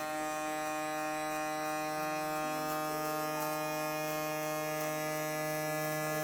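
Electric hair clippers fitted with a 1.5 guard run steadily while fading hair, a continuous close buzzing hum with no pauses throughout.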